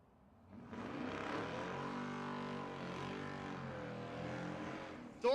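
An LS-swapped Volvo wagon with an LSA supercharger launches down a drag strip at Tulsa Raceway Park, a loud sustained engine roar rising quickly and holding, ending in a sharp burst.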